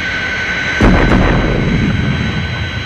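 Fire Flash jet airliner climbing and breaking the sound barrier: a sudden deep boom bursts over a steady roaring jet engine rumble, loud and close, with no voices.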